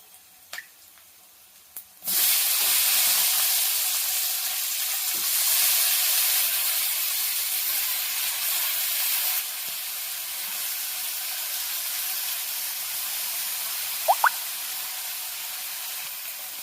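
Eggplant and potato pieces for a curry drop into hot oil with a sudden loud hiss at about two seconds, then a steady, broad sizzle that eases slightly partway through, with a couple of faint clinks near the end.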